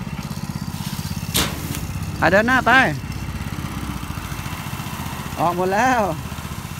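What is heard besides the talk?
walking tractor engine running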